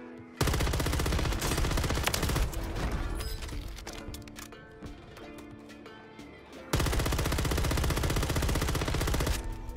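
Automatic gunfire in Call of Duty on Rebirth Island, loud sustained bursts of rapid shots with a brief lull of sparser, quieter firing in the middle before another long continuous volley.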